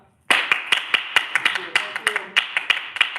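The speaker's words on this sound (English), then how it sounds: "You can clap." Audience clapping during a rehearsal performance, starting abruptly and continuing as a fairly sparse, close patter of individual claps with distinct sharp hits, a few voices faintly heard underneath.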